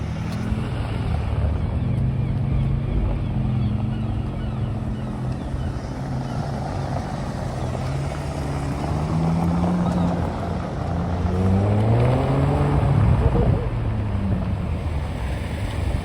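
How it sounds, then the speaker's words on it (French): A loud Liberty Walk-modified car drives past a Mercedes Black Series at a seaside Deauville car-spotting meet, its engine drone rising and falling over constant outdoor traffic and wind noise. "Liberty Walk qui passe devant la Black Series"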